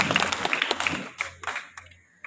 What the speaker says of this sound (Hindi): आप भी तालियां बजा के मुबारकबाद पेश करें।